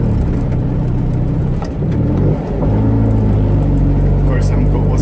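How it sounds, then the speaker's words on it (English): A car with a constant mesh gearbox, its engine blipped hard on the throttle while downshifting to third going uphill, giving a loud steady engine drone with a brief dip and swell, heard up close. "To put third I have to blip it a lot, like this."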